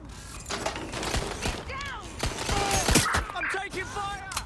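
Gunfire in the video game Watch Dogs: Legion, a rapid burst of sharp shots mixed with clattering impacts and whistling ricochets during a chaotic firefight, with shouted voices in the mix.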